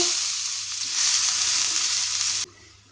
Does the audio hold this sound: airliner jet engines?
no